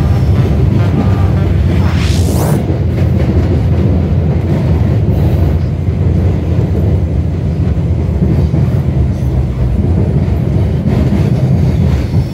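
A train runs along rails with a loud, steady rumble and clatter close by. A brief rising squeal is heard early on, and the noise stays continuous with no talk.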